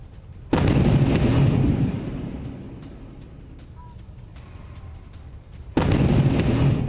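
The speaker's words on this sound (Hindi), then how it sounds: "ये देखिए कैसे धमाका होता है और आग लग जाती है इमारत में।" A sudden loud drone attack explosion bursts out at a building in Moscow, then its rumble trails off into a quieter hiss, before a second heavy explosion hits near the end.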